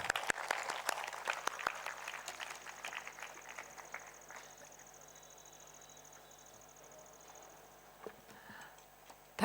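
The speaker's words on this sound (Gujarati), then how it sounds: "એટલે એના માટે આપણે ફરી એકવાર સૌ તાળી પાડીએ" An audience at an inaugural session in a bungalow hall in Bhavnagar claps, dense and lively at first, then thinning out into scattered claps that fade to near silence.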